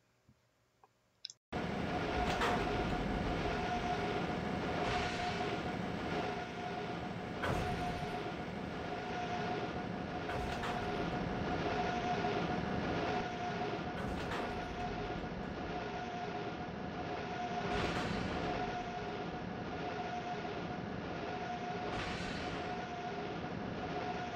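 Inside the vestibule of an NJ Transit passenger car in the Trainz game, rolling through curves between Newark International Airport and Newark Penn Station: a steady, close rumble of wheels on rail with periodic clicks and clunks, no talking.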